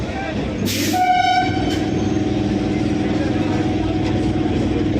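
Indian passenger train running near Barasat Junction, a loud steady rumble of carriages on the rails with a brief horn blast near the start, heard from close by with some background voices.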